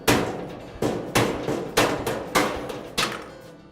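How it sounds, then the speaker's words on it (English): Rubber mallet striking a large screwdriver to knock a caster out of a Weber grill leg, six evenly spaced sharp, close knocks at roughly half-second intervals, with nothing else heard. "I'll remove the caster using a large screwdriver and a rubber mallet."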